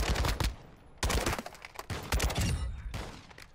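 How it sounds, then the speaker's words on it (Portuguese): Gunfire in Call of Duty Warzone DMZ at an airport, several sharp bursts of rapid shots in quick succession with thuds between, loud and close, with no talk over them. "Tem outro tiro mesmo."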